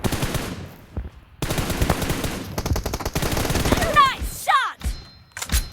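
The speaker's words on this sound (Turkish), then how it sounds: "Çok güzel bir fire attım." Bursts of automatic rifle fire from PUBG Mobile rattle in rapid volleys, broken by brief pauses, with a few sharp whooshing effects toward the end.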